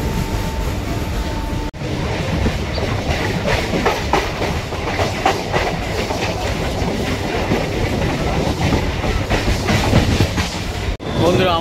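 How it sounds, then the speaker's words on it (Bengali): A Kolkata Chakra Rail circular local train pulls into Patipukur station with a steady, loud rumble and clatter of wheels on the rails, continuous throughout with brief dips. "এখন কিন্তু পাতিপুকুর স্টেশনে ঢুকছে ট্রেন।"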